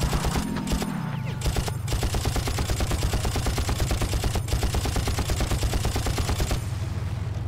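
A gunner turret in the Far Cry game fires long, fast, evenly spaced bursts, loud and close. The firing runs nearly the whole time, with a brief break near the start.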